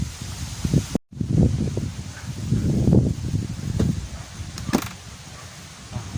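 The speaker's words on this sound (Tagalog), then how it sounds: "malakas nga yung hangin mga kalapatid" Strong gusty amihan (northeast monsoon) wind in Candon, Ilocos, rushes and buffets the microphone, with leaves rustling and a few faint knocks.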